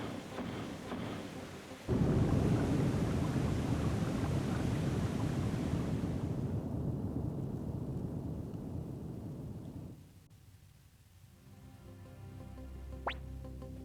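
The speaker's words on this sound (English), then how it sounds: "use the triangle plate and that will stop the flow of water." Water rushes out of a mechanism in the video game Suikoden I & II HD Remaster. A loud, roaring flow starts abruptly, holds for several seconds, then drops away into quieter trickling and a brief high tone, with no voices.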